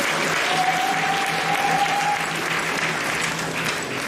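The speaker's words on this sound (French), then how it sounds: "sous les applaudissements de l'Assemblée chrétienne de cette communauté et tous" A church congregation applauds at the close of a eucharistic celebration, giving a steady, dense wash of clapping from many hands that holds at an even loudness for the whole stretch, with no talk over it.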